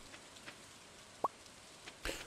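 Rain falls in the Stardew Valley video game as a faint, steady patter with a few soft isolated drops and plops, one sharper drip standing out briefly, with no talking.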